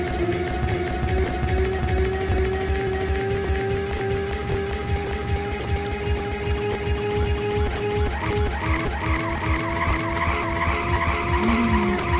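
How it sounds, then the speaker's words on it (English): Car tires skidding and squealing in a drifting racing video game, a sustained loud screech with steady tonal whine over rumbling engine noise that shifts pitch partway through. "I drifted too much, lost traction, couldn't regain it in time"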